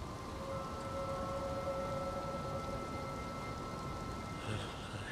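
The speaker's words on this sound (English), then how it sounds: "It's always raining here." Steady rain falls over a fantasy academy in the Elden Ring video game, a soft continuous hiss that runs unbroken with no voices.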